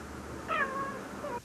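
A cat gives a single drawn-out meow, clear and fairly close, over a quiet background hum; it is from a Brazilian TV news segment about a writer who lives with cats.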